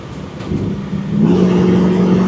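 A 1968 Chevrolet Camaro drives and accelerates, its engine note rising into a louder, steadier droning pull halfway through, close and without speech.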